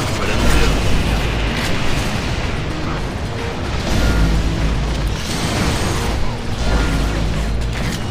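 Gunfire and explosions from the video game Vanquish, dense with booms and rumbling blasts layered over continuous sharp firing, loud and unbroken throughout.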